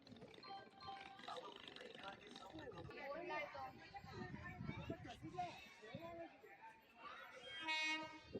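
A train arrives at a station, sounding its horn in a loud blast near the end over rumbling wheels, while a crowd on the platform chatters throughout.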